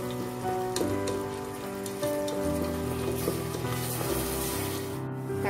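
Tomatoes sautéing in a pan for paneer biryani, giving a steady, close sizzle and crackle with soft stirring and a faint tonal hum underneath throughout.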